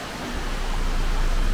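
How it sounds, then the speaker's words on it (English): Lumsdale Waterfall in a wooded valley gives a steady, close rush of falling water, a broad even roar that swells slightly over a second and a half. "this is apparently the waterfall. Lumsdale? Lumsdale Waterfall."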